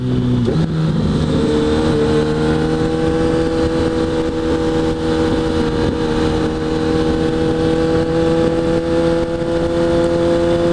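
A Suzuki Hayabusa motorcycle accelerating hard on the road, a loud sustained engine roar climbing through the revs with rushing wind noise, continuous and close throughout.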